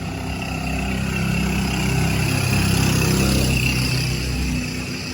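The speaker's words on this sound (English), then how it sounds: "Boy, those trikes are noisy." Motorized tricycles rumble past on a quiet side street in Makati, their engines a steady, fairly loud drone that swells slightly in the middle before easing off, with no talking.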